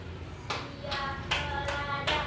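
Children clap hands together in a counted group rhythm during a school physical education class, giving five sharp broadband claps spaced about half a second apart, moderately loud and alone without talk.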